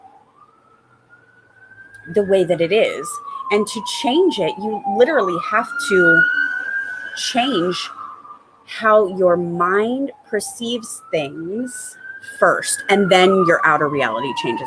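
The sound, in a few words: emergency vehicle sirens in Southern California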